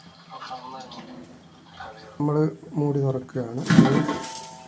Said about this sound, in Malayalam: ഇതിപ്പോൾ ഒരു 10 മിനിറ്റ് ആയിട്ട് നമ്മൾ മൂടി തുറക്കുകയാണ്